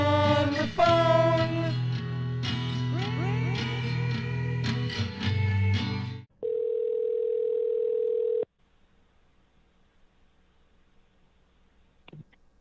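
After music cuts off, a single steady electronic telephone tone sounds for about two seconds during a prank phone call, followed by near silence and a faint click.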